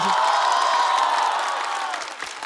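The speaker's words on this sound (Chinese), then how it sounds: "掌声再给小鹿" A stand-up comedy audience cheers and applauds for the comedian Xiaolu, with loud whoops and a wash of clapping that gradually fades toward the end.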